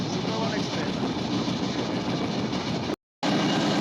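The Jahanabad Express rolls along on a winter morning beside an expressway, a loud, continuous rumble and clatter of wheels on rails with a brief dropout near the end.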